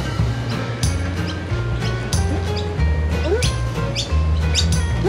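Many birds in Australia chirp and tweet in quick overlapping calls, fairly close, over a low background rumble.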